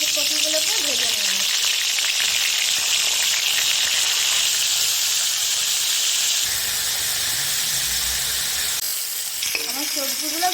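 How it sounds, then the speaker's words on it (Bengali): Turmeric-coated cauliflower pieces fry in mustard oil in a wok. A loud, steady sizzle and hiss fill the whole clip, with brief speech at the start and end. "কড়াতে সর্ষের তেল দিয়ে দেব, হলুদ দিয়ে মাখানো ফুলকপিগুলোকে ভেজে নেব"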